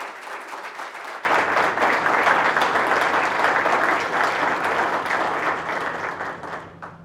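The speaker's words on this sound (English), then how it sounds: "join me in a round of applause for our two candidates, Mayor Craig and Victoria Sullivan" Audience applause for two mayoral candidates, Mayor Craig and Victoria Sullivan, at a Manchester debate: a brief murmur, then dense, sustained clapping from a crowd that stays loud and slowly thins toward the end.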